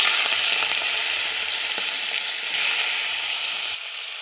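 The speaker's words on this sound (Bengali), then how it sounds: "তেল গরম হয়ে গেছে, সবগুলো মাছ ভেজে নেব।" Tiger prawns frying in hot oil in a kadai, cooked for a prawn malai curry; a loud, steady, close sizzle runs the whole time and eases slightly near the end.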